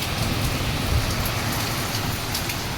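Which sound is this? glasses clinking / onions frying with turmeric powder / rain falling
rain falling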